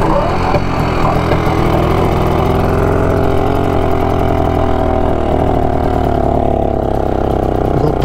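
A BSA Bantam motorcycle engine runs close by, holding a steady, throbbing idle with no pauses for the whole clip.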